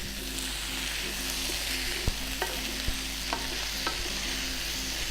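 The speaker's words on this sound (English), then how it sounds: "So in go our potatoes, it's all coming together nicely. Give it a good stir." Potatoes stirred in a frying pan for Spanish croquettes, with a steady low sizzle beneath and a few sharp scrapes and knocks of the utensil against the pan, no talking.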